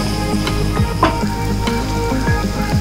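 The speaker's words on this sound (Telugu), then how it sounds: "ఆనియన్స్ వేసిన తర్వాత 2 కరివేపాకు రెమ్మలు, 2 పచ్చిమిర్చి ముక్కలు బాగా ఫ్రై చేసుకోవాలండి." Onions, curry leaves and green chilies frying in oil for an egg fry curry produce a soft, steady sizzle close by, with a few light stirring taps.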